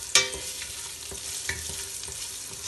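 Forty grams of ginger dropped into a hot pan for a fish soup with vegetables, a sharp sizzling burst at first that settles into a steady, close frying hiss with a few stirring scrapes.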